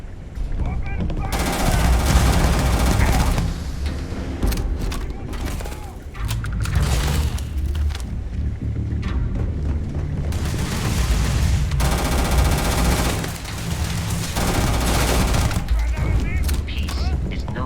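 Sustained automatic gunfire in the sci-fi shooter Starfield, loud dense bursts of rapid shots with booms and impacts, continuing almost without pause through a heavy firefight with voices mixed in.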